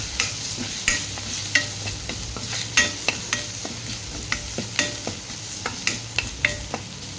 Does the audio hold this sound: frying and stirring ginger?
yes